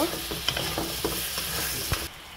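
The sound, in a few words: sautéing potato and bottle gourd with spice paste in a pan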